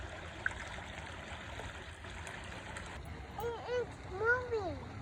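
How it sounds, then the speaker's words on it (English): A small creek flowing outdoors, making a soft, continuous rushing trickle under a child's high-pitched voice calling out near the end. "This is a creek."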